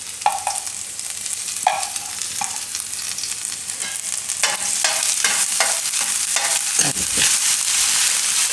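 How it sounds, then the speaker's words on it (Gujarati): Ginger, chilli and garlic frying in hot oil while being stirred, a steady close sizzle with scraping stir strokes and clatter throughout, growing slightly louder midway, with no talking. "તો તેલ આપણું ગરમ થઈ ગયું છે. તો એમાં આપણે થોડાક નાખીશું આદુ મરચાં ને લસણ."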